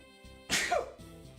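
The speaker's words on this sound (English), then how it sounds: "I'm gonna sneeze." A single sharp human sneeze bursts out close to the microphone, then trails off quickly into quiet.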